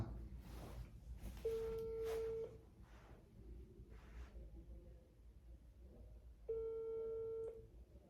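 A telephone ringback tone on an outgoing call plays as two long, steady beeps about a second each, separated by a pause, over a low background hiss with no talking.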